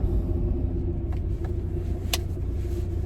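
A classic car back on the road after 12 years off it, its engine idling with a steady low rumble, close and continuous, amid light traffic noise and a couple of faint clicks.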